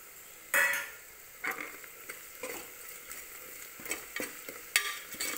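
Ground cinnamon and clove powder frying and being stirred in a pan for veg pulao, a quiet sizzle under scattered scraping and ticking stirs that come in short bursts.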